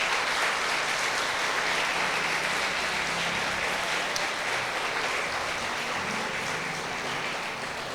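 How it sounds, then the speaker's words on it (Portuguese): A church congregation applauds steadily for the whole stretch, with thick, continuous clapping that fills the room and no speech over it. "Eu queria que a igreja aplaudisse esses irmãos em nome de Jesus."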